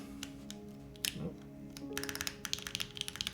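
Typing on a Delta50 mechanical keyboard fitted with long pole switches, bursts of crisp clacky keystrokes in quick uneven runs, close and clear over a faint background hum.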